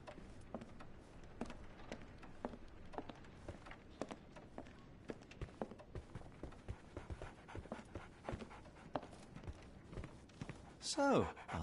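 A dog pants rhythmically, close and quick, in a Sherlock Holmes video game, with soft footsteps around it and a voice speaking near the end.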